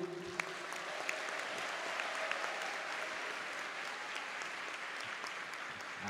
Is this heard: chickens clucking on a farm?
no